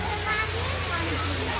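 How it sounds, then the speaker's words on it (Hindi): Waterfall at Patna zoo, a steady broadband rush of falling water that fills the clip evenly, with a low hum and faint crowd murmur underneath. "वो पीछे देखिए झरना है"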